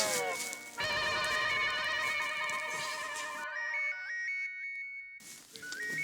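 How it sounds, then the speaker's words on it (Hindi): A melodic electronic phone ringtone plays loudly for several seconds, with a bright repeating tune that pauses briefly then starts again. "फोन अटेंड नहीं करूंगा तो फिर फोन पे फोन करती रहेगी"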